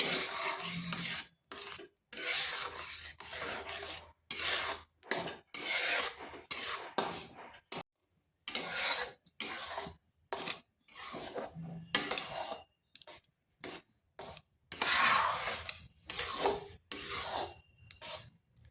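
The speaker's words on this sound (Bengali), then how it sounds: "আঁচটা স্লো আঁচে করে বেশ কিছুক্ষণ সুজিটা এভাবে নেড়ে নিতে হবে।" Semolina (suji) dough stirred in a pan over low heat for chusi pitha: a steady scraping, rasping rub comes in repeated strokes with brief pauses, close and fairly loud, with no talking.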